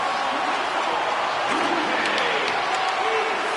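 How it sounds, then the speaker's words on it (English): Ice hockey crowd on its feet applauding and cheering after a hard-fought game, a steady wash of arena clapping and cheers throughout with no one talking over it. "And the crowd's on their feet, saluting the team after a hard-fought effort this evening."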